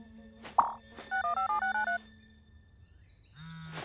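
A cartoon mobile phone inside a box gives off a run of electronic beeping tones, then a brief ringing burst at the end, heard fairly close against a quiet background with no talking.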